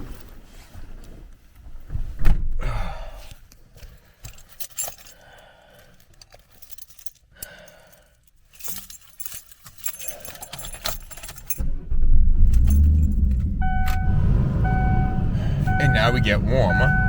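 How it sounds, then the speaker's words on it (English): A car started to warm up on a very cold day, about 11 degrees: keys jingle and handling noises come first, then the engine catches and settles into a steady, loud idle with a soft beeping chime. "I'm gonna have to put the car on now to warm up."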